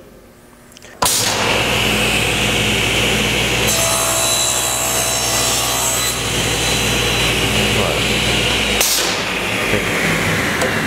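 A table saw crosscutting a wooden board in a cabinetmaking shop: a loud, steady whirring cut runs for about eight seconds after a quiet start, with a grinding rise in the middle, then the blade keeps spinning down.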